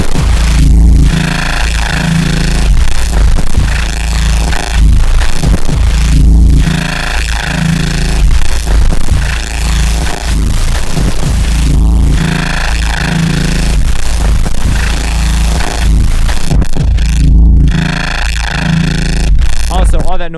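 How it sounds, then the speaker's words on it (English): Synthesizer noise run through a bit shaper effect, a loud, dense, gritty distorted buzz that stays continuous for the whole stretch with rough shifting textures. "all that noise was from the bit shaper."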